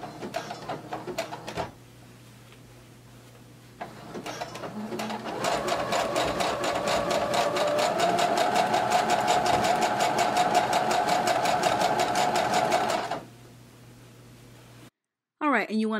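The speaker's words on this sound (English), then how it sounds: "So go ahead and begin sewing." A sewing machine stitches elastic onto a maxi skirt, a steady loud rapid motor hum running for about eight seconds between shorter quieter bursts, with someone talking over parts of it.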